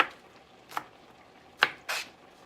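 A knife chopping peppers into rustic, chunky pieces on a cutting board gives a few sharp, separate close taps with quiet pauses between them.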